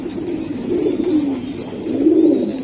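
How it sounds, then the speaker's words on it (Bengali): A racing pigeon coos nearby in low, soft rolling phrases, two swelling calls with a quiet hum in between. "এই যে কবুতর"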